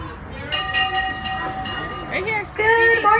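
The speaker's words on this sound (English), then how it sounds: "Welcome aboard the Griffith Park and Southern Railroad." A Griffith Park and Southern Railroad miniature train ride, with steady rolling clatter and rumble under a chiming bell or whistle-like tones, while people talk over it.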